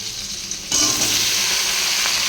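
Mixed vegetables with onion hitting hot oil in a wok, a sudden loud burst of sizzling after a quieter hiss, then a sustained bright frying crackle close by.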